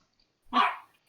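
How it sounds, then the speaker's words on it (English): A small pet dog lets out one sharp, close bark in an otherwise quiet room during a farming-game multiplayer session. "That's my little dog."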